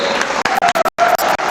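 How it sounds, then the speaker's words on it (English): An audience at an event honoring a Tuskegee Airmen flight lieutenant applauds, a short burst of dense clapping from a crowd with brief gaps. "A round of applause for one of our beauties, ladies and gentlemen."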